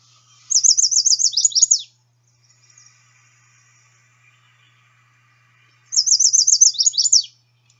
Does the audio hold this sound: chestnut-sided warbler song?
yes